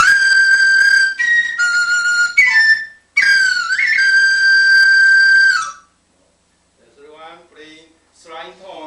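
A flute at a 1996 Taiwan flute festival workshop plays quick flying scale runs with a flickering, fluttering tone, bright and close, in bursts with a brief gap, followed by someone speaking quietly.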